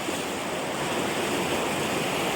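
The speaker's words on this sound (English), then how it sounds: "Lovely, lovely creekside wilderness setting in the Badger Creek Wilderness." Creek water in the Badger Creek Wilderness of Oregon, flowing as a steady broadband rush that stays loud and unbroken throughout, with no voices.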